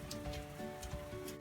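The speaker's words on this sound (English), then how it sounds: "today it rained!" Steady rain falls outdoors, a soft, continuous hiss of drops with a few brief brighter patters, fairly quiet and with no voices.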